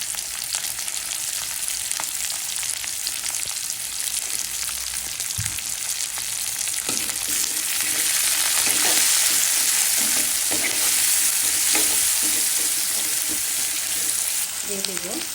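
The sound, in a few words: frying garlic, spices, onion and chili for cauliflower bhaji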